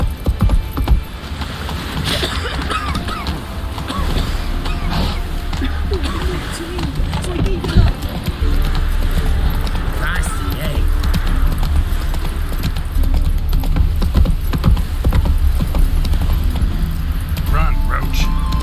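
Roach the horse galloping in The Witcher 3, steady clip-clop hoofbeats running under a busy game soundtrack and occasional voices, continuous through the run.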